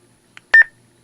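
A roger beep tone from a TIDRADIO FRS walkie-talkie, a short single electronic chirp after a faint blip, clear and close in quiet surroundings.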